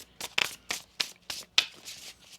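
A deck of tarot cards being shuffled by hand, a quick series of about eight crisp riffling bursts in an uneven rhythm, close and fairly soft, with no talking.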